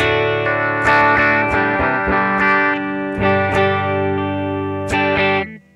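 Electric guitar with a clean, Matchless-style tone played through a Matribox II Pro multi-effects unit: a series of strummed chords ring out with shimmering chorus-like sustain, loud and close, with no talking.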